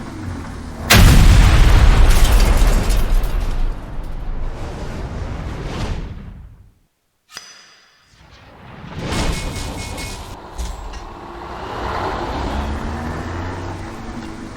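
A Detroit Diesel 8V92 engine in American Truck Simulator fires up with a sudden loud roar, holds a heavy rumble for several seconds, drops to near silence, then revs back up and settles into a steady drone.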